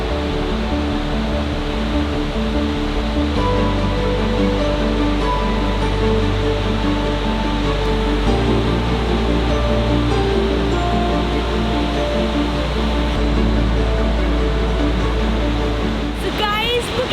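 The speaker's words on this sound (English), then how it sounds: "So guys, look at the waterfall." Steady, loud rushing water roars continuously, a dense unbroken wash of falling water close by, at an Icelandic waterfall in summer.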